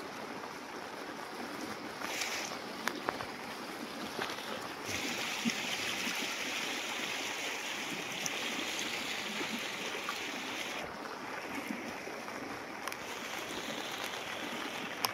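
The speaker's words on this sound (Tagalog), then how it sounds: "Grabe yung lakas ng tubig." Strong, rushing floodwater after heavy rain, with a boat crossing the swollen river. A steady, loud roar and hiss of water runs unbroken the whole time, and no one speaks.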